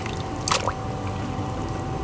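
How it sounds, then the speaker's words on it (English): Dirty, brownish water from soaked fabric is dumped out, giving a brief splashing pour and squishing gush near the middle, heard up close against a steady background hum. "So I'm gonna go ahead and get this dumped out"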